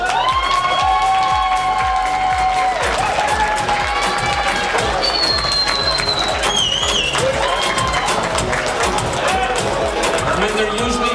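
Applause and cheering from a crowd at a red carpet film festival event roll on steadily, with voices talking and calling out over the clapping throughout.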